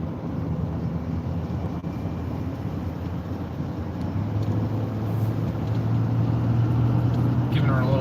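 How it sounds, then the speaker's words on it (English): A 2019 Duramax diesel dually pickup truck on the move, its engine giving a steady, muffled low rumble mixed with road noise inside the cab, swelling slightly louder toward the end as more fuel is given. "You can still hear that nice diesel clatter, but it's more quiet."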